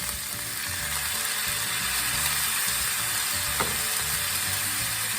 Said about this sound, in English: I'm going to add my 1 can of corn